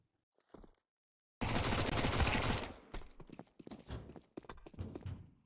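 Burst of SMG fire in a Counter-Strike match, one dense sustained volley of rapid shots lasting about a second, followed by scattered quieter shots and footsteps, with no speech.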